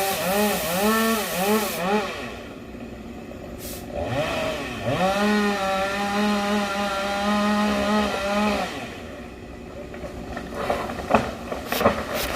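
A chainsaw cuts branches from a large oak tree, its engine revving up and down in quick rising whines before holding a long steady roar, then dropping back to a rough idle with some knocks.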